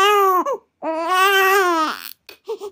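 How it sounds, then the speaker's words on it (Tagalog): A baby crying in a story, soft wails heard close and loud in two long rising-and-falling bursts with a brief gap, then a few shorter whimpering sobs. "narinig ni Maria ang malalambot na iyak ng isang sanggol sa labas ng"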